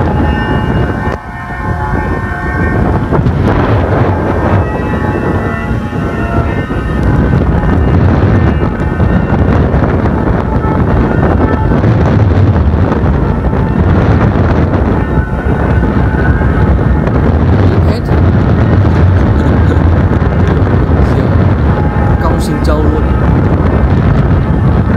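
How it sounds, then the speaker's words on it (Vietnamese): Strong storm wind roars continuously and loudly across an open field where a large flute kite flies, with heavy buffeting gusts against the microphone throughout and a voice speaking over it. "gió cực căng luôn."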